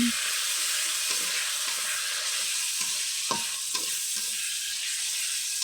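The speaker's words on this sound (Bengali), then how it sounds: "এরপর দিয়ে দেবো আদ রসুন বাটা একটু নেড়ে চেড়ে" Ginger-garlic paste is stirred in a hot pan for a chicken and chana dal curry: a continuous loud sizzle broken by repeated scraping stirs of a spoon against the pan.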